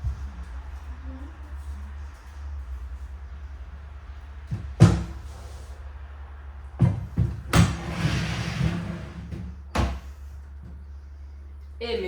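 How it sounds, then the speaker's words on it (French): A small chest of drawers is moved into place in a bedroom, giving a few wooden knocks and thuds with shuffling scrapes between them, close by over a low steady hum. "on va rajouter le dernier meuble, le petit meuble à tiroir"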